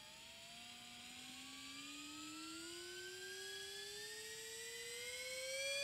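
Battery-operated portable rotary tool spinning up, a thin, quiet whine that rises steadily in pitch as the motor gains speed, heard alone and close.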